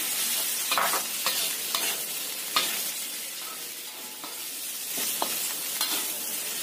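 Eggs sizzle in a hot pan while a utensil scrapes and stirs in repeated sharp strokes, close and clear.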